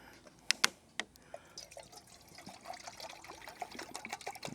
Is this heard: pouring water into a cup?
yes